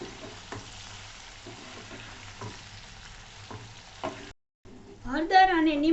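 Okra with turmeric and salt stirred in a pan for masala bhindi, a soft, low sizzle with several gentle taps of a spoon, followed by a brief pause and then a voice speaking.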